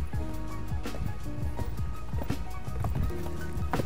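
A horse cantering in a riding arena over poles, hooves clip-clopping in a steady three-beat rhythm, close and distinct, with faint snorting breaths between strides.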